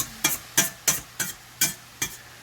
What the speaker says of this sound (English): You want to break that sausage up nice and small.